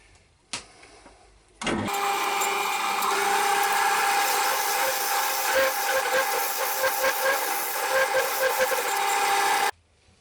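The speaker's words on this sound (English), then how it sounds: "10mm carbide cutter, and I'm going to go in there now, round the bottom off with this" Wood lathe turning a goblet, a 10mm carbide cutter rounding off the bottom: a loud, steady, scratchy cutting hiss with a sustained tonal whine, starting after a brief knock and stopping abruptly near the end, with no talk.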